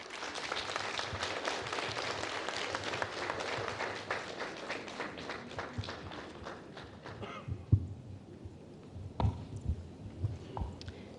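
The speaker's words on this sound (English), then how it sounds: "Round of applause for her." Applause from an event audience for a news editor about to give a welcome address, a dense clapping wash that fades over several seconds into scattered claps and a few isolated thumps in a quieter room.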